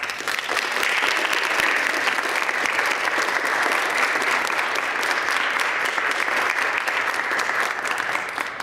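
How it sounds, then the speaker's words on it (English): Sustained audience applause at a middle school honor choir concert, a dense even roar of clapping for about eight seconds from a large crowd, steady in loudness throughout. "Can you give your parents a round of applause?"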